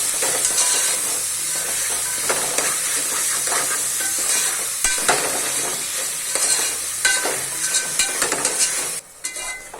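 Mushrooms fry in a hot pan with steady, dense sizzling and hiss, punctuated by repeated stirring scrapes and spatula taps, close and loud throughout until a brief dip at the end.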